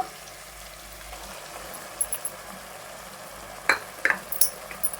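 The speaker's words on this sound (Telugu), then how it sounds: "వేసేసుకుని ఇదంతా టమాటోలోకి కలిసిపోయేలాగా అయితే కలుపుకోవాలి." Cooked gongura leaves are stirred into softened tomatoes in a pan. A faint background sizzle runs under scattered light scraping and clinking spoon strokes near the end.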